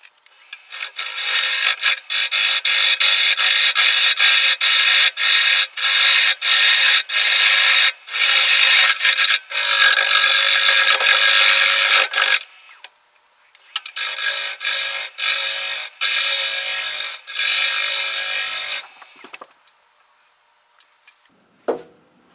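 Rough turning and hollowing a very wet poplar fruit bowl on a wood lathe, the gouge cutting in long loud scraping bursts with brief pauses between passes and a quieter tail at the end.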